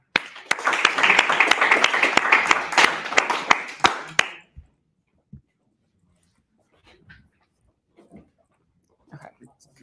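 Audience applause for a team called to the stage at a course presentation event, a burst of clapping from a modest crowd lasting about four seconds, then fading into sparse faint knocks and quiet room sounds.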